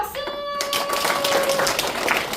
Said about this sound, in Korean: 할 수 있다 생각하면 박수.